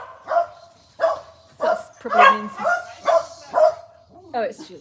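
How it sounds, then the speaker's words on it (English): Dogs in a home bark in a steady series of about seven sharp, close barks spaced roughly half a second apart, ending in a whine, while people talk in between. "Sorry about the dogs barking"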